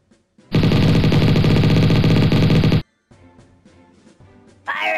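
Rapid automatic gunfire from the Mini Militia video game during a live fire drill, one loud sustained burst of about two seconds, followed by quieter game sounds.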